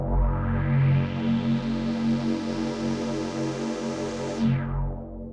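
A thick, wide synth chord with detuned unison switched on, giving a wavering, hollow chorus-like shimmer, held for about five seconds and then releasing.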